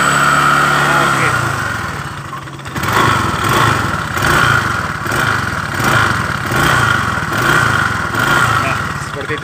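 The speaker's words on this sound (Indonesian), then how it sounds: "Sangat kasar sekali bunyinya di bagian CVT bagian depan ya." Scooter engine with a worn, badly neglected CVT transmission revving repeatedly, a loud, close, rough clattering drone that swells and dips in regular pulses, with a voice talking over it.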